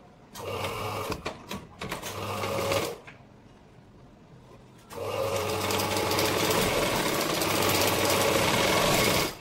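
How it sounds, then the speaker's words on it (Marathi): Sewing machine stitching the edge of a blouse, running in loud steady bursts: a short run, a pause of near-quiet, then a longer continuous run with its rapid mechanical whir. "तर आता मी टीप देऊन घेत आहे."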